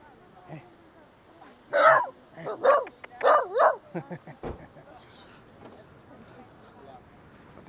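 A dog barks outdoors during a walk near the beach in São Roque, Ponta Delgada, Azores, giving four sharp, fairly close barks in quick succession before quieter ambient sound returns.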